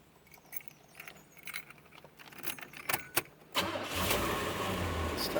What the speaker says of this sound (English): Start it up.